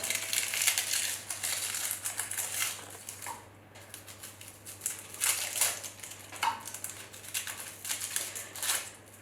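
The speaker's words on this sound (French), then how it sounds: "Donc je vais d'abord éplucher les échalotes." Shallots being peeled by hand in a kitchen, a steady run of close crinkling and crackling of dry papery skins with small pauses, under a low constant hum.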